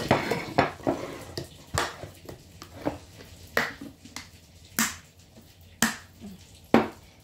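Spoons and plates used for baking are put away in a series of about a dozen sharp clinks and clatters, close by and irregularly spaced.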